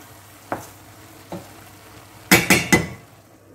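Minced meat browns in a pan for bolognese, a soft sizzle underneath as a spoon knocks the pan a few times, ending in a quick cluster of sharper scraping clatters.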